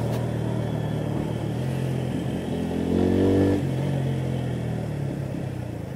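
A Bajaj Pulsar P150 motorcycle engine hums steadily while riding, with a brief louder rise in revs midway before settling back to a constant drone; no talk.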